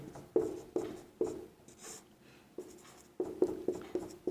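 Handwriting on paper during a maths lesson, close, quiet pen strokes and taps coming in short rhythmic clusters with a brief pause midway, no speech.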